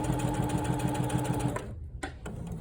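A sewing machine stitches a diagonal seam tape with a rapid, even mechanical chatter close by, then slows and stops, followed by a couple of brief clicks and rustles.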